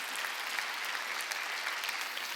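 A church congregation during a Sunday worship service breaks into sustained applause, a dense even patter of many hands clapping at moderate volume throughout.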